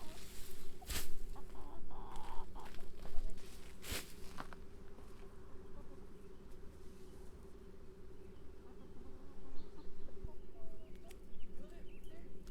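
Chickens cluck softly nearby amid buzzing insects in a garden while being fed kale, with a few sharp knocks and rustles and a person speaking briefly.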